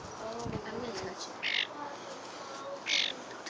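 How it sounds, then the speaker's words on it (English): A wild bird held close by people gives two short, harsh squawking calls spaced apart, fairly loud against quiet outdoor background after brief talking. "It's a wild bird."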